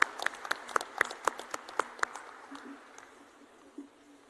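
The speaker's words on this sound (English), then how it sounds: "I think a round of applause would be appropriate at this time" A crowd at a drone summit launch event claps in a burst of sharp, scattered claps that thin out and fade over a few seconds, with faint voices near the end.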